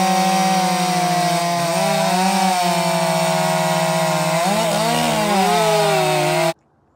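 A chainsaw fitted with an aftermarket muffler roars loud and close at high revs, its pitch dipping and rising twice as the throttle shifts, then cuts off abruptly at the end; no one talks.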